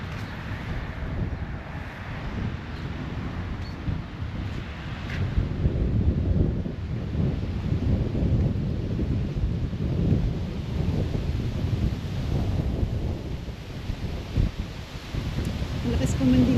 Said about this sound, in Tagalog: Malakas pa man din ang hangin,